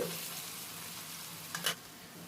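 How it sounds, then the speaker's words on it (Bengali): Onions fry lightly in a pan for a pomfret curry and are stirred, giving a soft steady sizzle with a brief scraping stir near the end, faint and without talk. "এইভাবে নাড়াচাড়া করে পেঁয়াজটা হালকা ভেজে নিতে হবে"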